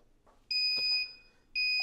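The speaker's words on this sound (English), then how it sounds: "You will hear that it beeps" A shrill electronic beep from a Meshtastic node alerting to a message sounds twice, loud and steady, the first lasting about half a second longer than the second, with quiet background between.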